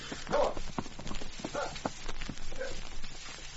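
Horses' hooves clip-clop in an uneven walking rhythm as the animals are led back in a desert setting, moderately close and fairly loud.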